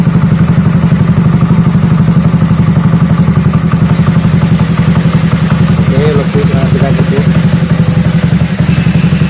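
A Honda C70 motorcycle converted to fuel injection with a Juken 5 racing ECU idles close by in a fast, even, throbbing putter, with a voice talking briefly over it.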